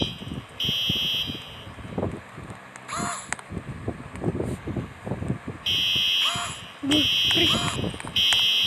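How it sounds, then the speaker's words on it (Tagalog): An alarm in a video game rings in sharp, high, buzzing bursts that start and stop several times, with someone talking and game noise around it. "Pindutin ko na yung alarm."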